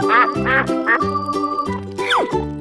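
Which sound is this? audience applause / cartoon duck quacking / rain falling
cartoon duck quacking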